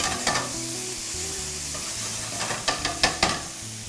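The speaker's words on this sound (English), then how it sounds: "We're gonna add the ginger and garlic." Ginger and garlic sizzle steadily in a hot pan, a soft continuous hiss with a few light clinks and stirring scrapes near the end.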